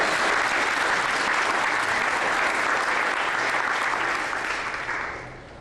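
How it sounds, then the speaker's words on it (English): An audience gives a round of applause at a Georgia regional trade and tourism presentation, a dense, steady wash of many hands clapping that holds loud and even before fading toward the end. "Let's give Deborah a big round of applause"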